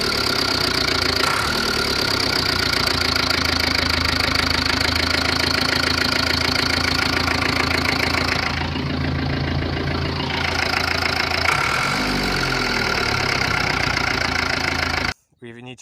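A close, loud Fordson Major tractor engine idles steadily with a rhythmic low chug, running continuously before cutting off abruptly near the end.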